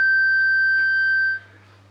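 A loud, steady electronic tone from a loudspeaker driving a circular Chladni plate holds for about a second and a half, then cuts off abruptly, leaving a low hum underneath.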